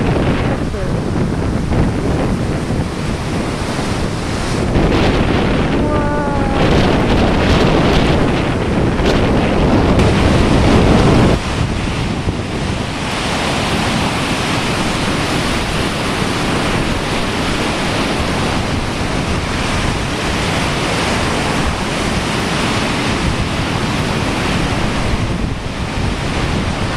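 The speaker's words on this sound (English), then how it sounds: "Waves are coming from a couple different directions and they're actually hitting into each other and going up into the air" Ocean surf churns and crashes under hurricane-force wind during Hurricane Sandy at a camp on the shore, a loud continuous roar with heavy wind buffeting the microphone.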